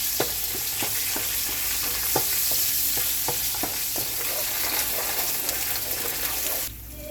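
Tomato paste frying in a pot while a spoon stirs it, a loud close sizzle punctuated by regular scraping strokes, with no voices, the sizzle easing slightly at the end.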